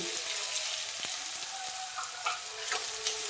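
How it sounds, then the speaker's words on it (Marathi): Finely chopped onions, three of them, sauté in butter with diced capsicum for pav bhaji, giving a steady close sizzle with a few light clicks of stirring, no voices. "कांदा छान परतून घेऊया"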